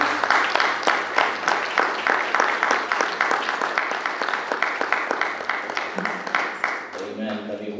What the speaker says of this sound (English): give him a hand clap as he comes